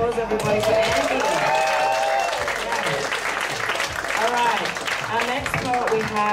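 Audience applause at a poetry slam held at a venue in Bali, a dense, steady wash of clapping with cheers and whoops rising through it, loud and close throughout.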